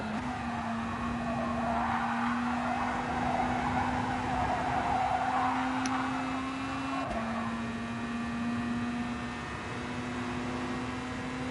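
A race car in Gran Turismo Sport brakes hard, its tires squealing in a long, steady high whine over a constant engine drone that holds for several seconds before easing slightly.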